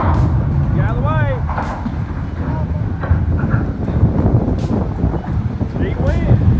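Strong storm wind roars steadily and loudly across the whole stretch near a highway bridge, a dense rushing blast with people shouting and exclaiming over it.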